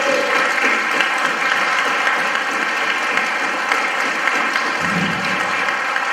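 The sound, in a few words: audience applause for choir director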